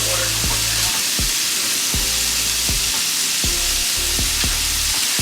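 Bacon frying in a pan gives off a dense, continuous crackling sizzle up close, with repeated short scrapes and stirs throughout and no voices.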